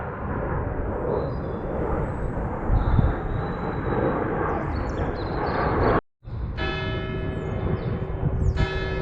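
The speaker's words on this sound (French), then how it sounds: "il y a un avion" An airplane passes low over an abandoned village near Paris, its engines a loud, steady roar that holds throughout, broken by a brief dropout near the end before the drone resumes.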